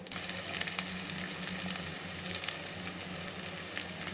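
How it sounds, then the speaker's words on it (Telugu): Curry leaves and green chillies fry in hot oil with mustard and cumin seeds in a pan, making a dense, continuous crackling sizzle with quick spits and pops throughout, close and alone. "కరివేపాకు, పచ్చిమిరపకాయలు వేస్తున్నాయి కదండి."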